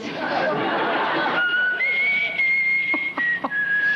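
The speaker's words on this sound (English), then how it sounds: "Whistle!" A referee-style whistle on a TV game show sounds as a steady, piercing tone held for a couple of seconds. It follows lively studio chatter and laughter, and brief clicks come near the end.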